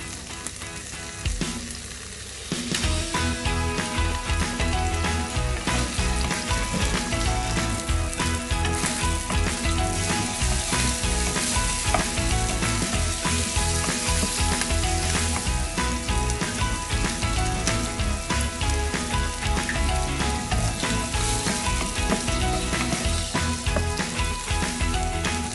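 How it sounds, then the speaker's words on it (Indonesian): Sausages, prawns and dried chili powder frying in a pan for spaghetti with garlic prawns: a loud, close, continuous sizzle and crackle that starts after a brief quieter moment and carries on steadily, with occasional stirring clatter. "Tumis 3 buah sosis, 6 udang,"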